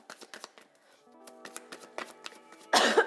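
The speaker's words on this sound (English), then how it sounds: "I am sorry for coughing." A woman coughs several times in sharp bursts, close and fairly quiet, with light card-shuffling handling sounds during a tarot reading and a louder rustle at the end.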